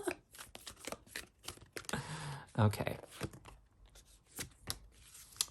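A reader shuffles a tarot deck by hand, producing quick papery riffles and slaps in irregular bursts, close up and interleaved with someone talking.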